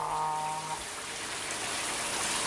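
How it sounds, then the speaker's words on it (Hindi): Cartoon rain pouring from a rain cloud as a steady, even wash of falling water throughout, with a brief tonal hum at the start. "इस बारिश के बादल ने हमारी मुश्किल आसान कर दी।"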